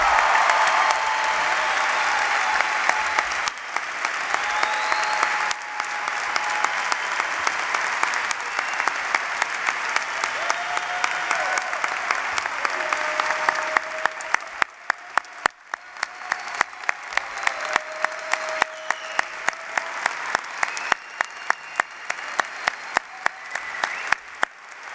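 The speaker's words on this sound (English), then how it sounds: "give them a huge round of applause" Large commencement audience at a Georgia Tech undergraduate ceremony applauding graduates, sustained dense clapping filling a big hall for about twenty-five seconds, with scattered louder claps near the end and no speech.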